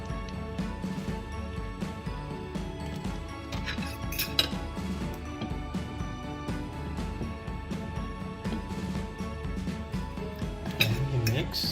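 Salmon and mi goreng noodles are mixed with oil, soy sauce and chili, utensils clinking and scraping against a dish continuously at close range over a steady background hum.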